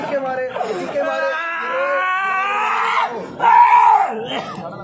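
A person screams and wails in anguish during a beating at an Indian tantric ritual, with loud, continuous cries and groans over crowd chatter and shouting.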